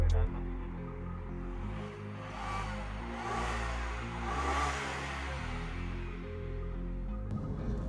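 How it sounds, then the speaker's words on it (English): A 2015 Mini Cooper Countryman 1.6 facelift is being driven, its engine giving a steady low hum with mild swells of revving under road noise, while someone talks faintly over it. "driving the Mini Cooper, simple thing to say, it's a very enjoyable car to drive"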